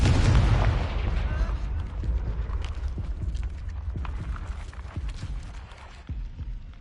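A Confringo fire spell detonates in a video game, a heavy opening boom followed by a string of sharper bursts and crackles during combat, with a voice speaking over the noise.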